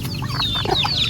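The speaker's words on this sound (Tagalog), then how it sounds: "Daming manok guys." Native chickens cluck and chirp steadily nearby on a farm, with several birds calling over one another against a low background hum.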